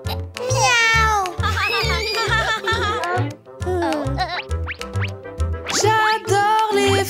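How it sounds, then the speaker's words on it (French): A cartoon cat meows in a children's animated scene with bouncy music, the meows mixed in with a voice and playful sound effects. "Oh, c'est un chat."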